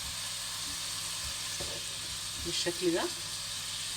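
Kofta meat patties sizzle steadily in a hot pan for a potato kofta tagine, with soft clinks and scrapes as they are flipped one by one; a voice speaks briefly over the frying.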